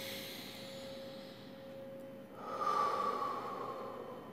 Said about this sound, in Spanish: Respiro profundamente.